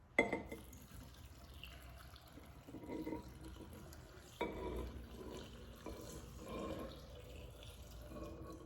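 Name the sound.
filtered water poured into tomato brine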